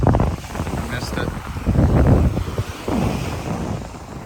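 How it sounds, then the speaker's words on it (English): Ocean waves wash onto a Palm Beach, Florida shore in a steady, rushing surge close by, with heavy wind buffeting the microphone and occasional voices under the roar. "The water's coming in a little more aggressively over here."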